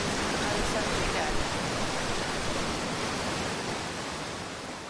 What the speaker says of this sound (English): Noisy waterfall is noisy.